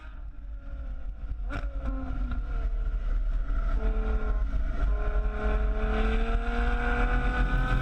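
A Ferrari F12 Berlinetta's V12 engine is loud and continuous as it drives, with rising harmonic tones as it accelerates, a brief shift or sharp transient early on, and a strong steady roar throughout with no talk.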